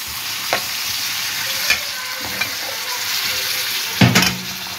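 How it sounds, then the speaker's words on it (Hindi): Kheer, a rice pudding, being stirred in a pot, with a steady bubbling simmer underneath and occasional soft scrapes and knocks from the spoon against the pot, up close and without talk. "और यहाँ बन रही है खीर, ये देखिए चावलों वाली। और अब इसको मिलाते हैं,"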